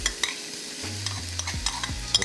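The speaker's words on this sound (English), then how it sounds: "one of the things we want to hear is that sizzling. Sizzling is a good sound." Food sizzles steadily in a hot pan, a constant crackling hiss with occasional scraping and stirring knocks.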